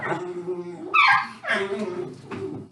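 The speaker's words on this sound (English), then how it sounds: "The puppies are going at it." Puppies barking, yipping and whimpering as they play indoors in a home kitchen, close and lively bursts, with a person talking over them.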